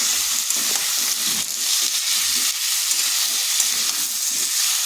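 Pumpkin pieces fry in hot oil in a wok, producing a steady, loud, hissing sizzle throughout with faint bubbling underneath and no talk.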